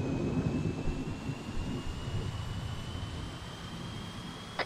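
An aircraft takes off in a Warhammer 40K video game, giving a steady, loud engine roar that holds broadband and unbroken for several seconds, with a faint high whine above it and no talking.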